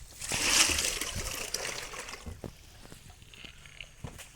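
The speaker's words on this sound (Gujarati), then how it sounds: "એક પછી એકને બધાને પાણી પાઈ દઈએ આપણે।" Water is poured out for cattle and buffaloes on a farm in hot sun, making splashing and trickling sounds that are strongest near the start and then settle into a softer, uneven dribble with scattered drips.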